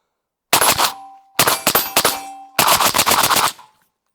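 A suppressed, overgassed 1944 StG 44 rifle fires three rapid automatic bursts, loud and close, with clangs of bullets striking steel targets ringing after each burst.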